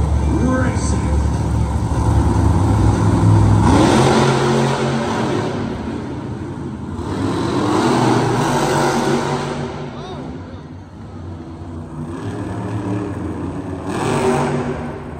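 Monster trucks race side by side at a 2024 Monster Jam arena show in Hampton, Virginia, their engines roaring loud and close in rising, falling surges, with a voice talking over the din.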